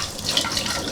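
Food rinsed under a running kitchen tap after being soaked in lemon: a brief splashy stream of water with small spattering drips, close and fairly loud, no talk.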